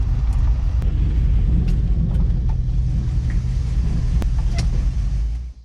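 A 1969 Camaro engine rumbles close by in a deep, steady idle with a few sharp clicks and knocks over it, then cuts off abruptly at the end as the car is parked.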